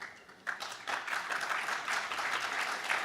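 Audience applause at a conference in New York City, starting suddenly after a brief quiet and swelling into steady, moderately loud clapping from the crowd.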